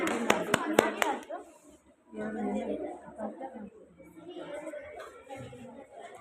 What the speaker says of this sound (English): Big round of applause for Harshita.